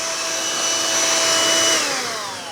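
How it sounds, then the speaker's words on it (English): A Black + Decker Spillbuster BHSSB315J cordless carpet cleaner runs in vacuum mode with a loud, steady motor whine close by, sagging slightly in pitch toward the end, with no voices. "you can just turn the vacuum on."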